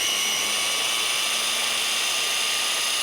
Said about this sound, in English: So I'm going to zap my fruit together to make a nice fruit puree.